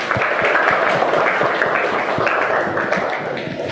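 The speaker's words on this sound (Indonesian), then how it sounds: "tepuk tangan buat kalian" A class of students applauding together in a classroom, a dense, sustained wash of clapping that stays loud and close before easing off slightly at the end.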